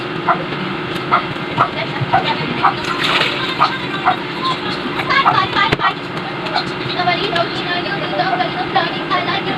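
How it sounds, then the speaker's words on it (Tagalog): Water pours and sloshes into a pot for a home-cooked fish soup, a close, ongoing splashing with intermittent knocks, and a dog barks sporadically in the background. "Dalagyan natin siya ng tubig."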